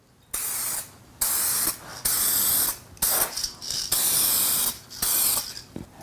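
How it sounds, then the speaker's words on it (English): An aerosol spray can lays a first coat of clear coating onto a car headlight lens, in a run of loud hissing bursts, each lasting roughly half a second to a second, separated by short pauses. "here's our first coat"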